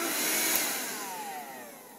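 A Shark vacuum cleaner runs steadily close by, a continuous whirring motor drone with broadband hiss that holds level for the whole two seconds and fades slightly toward the end.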